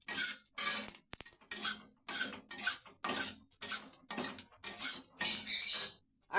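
Spices dry-roast in a dry kadai over a low gas flame with no oil, making a steady series of scraping, rattling stirs, each a short burst followed by a brief pause, close and clear with no talking.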